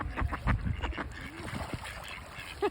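Ducks quack on a lakeshore where swans have come up onto the bank, a few nasal quacks close by over outdoor wind and rustling, with a person's brief laugh and voices nearby.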